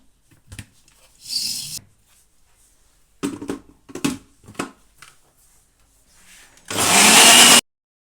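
An electric blender whirs in short pulses while mixing chocolate cake batter of eggs, sugar, milk and oil, with brief bursts and one longer loud run at the end, silence between.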